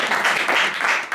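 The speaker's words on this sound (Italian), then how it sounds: "Un applauso alla famiglia." A short, steady burst of audience applause for a family at a 107th birthday celebration in Mussomeli, dense and fairly close, lasting just over a second.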